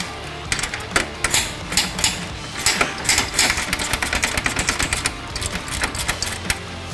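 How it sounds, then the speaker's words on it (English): An 8 mm bolt is driven into a bumper support bracket on a 2021-plus third-generation Ford F150 Raptor, a loud, close, rapid rattling of ratcheting and metallic clicks in quick bursts, heard alone. "now we'll install our 8 millimeter bolt"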